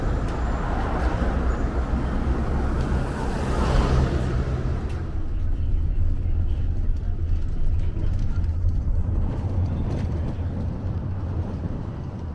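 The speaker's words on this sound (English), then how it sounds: "I am now at Sayvan bus station." Traffic rumbles steadily at Sayvan intercity bus station in Turkistan, a continuous mix of vehicles and a louder passing engine near the start, heard under talk.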